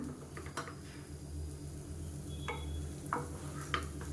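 Coconut milk biryani being gently mixed in a pot, from the bottom up: a few soft scraping, stirring strokes over a steady low kitchen hum, fairly quiet.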